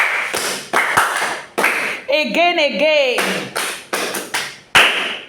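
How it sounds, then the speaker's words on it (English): Students in a classroom clap for themselves in several short bursts of sharp hand claps and taps, separated by brief pauses, with a voice speaking over them. "Clap for yourself."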